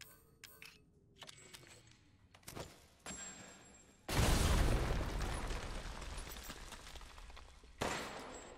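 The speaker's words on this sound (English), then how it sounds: "pipe bomb." A pipe bomb goes off in Resident Evil Village, a loud sustained blast with a rumbling roar that fades slowly, then a second sharp burst near the end, after scattered quieter game noises.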